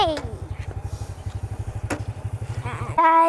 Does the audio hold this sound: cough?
no